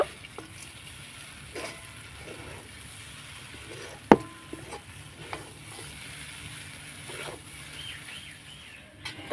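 A semolina and ripe palm laddu mixture is stirred in a pan, giving faint, steady scraping and soft sizzling throughout, with one sharp utensil clink near the middle and a few lighter knocks.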